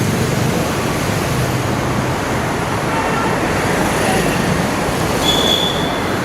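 Steady, loud roar of road traffic on a Kochi street as vehicles pass close by, with a brief high tone near the end.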